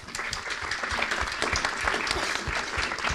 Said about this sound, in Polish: oczywiście znak brawa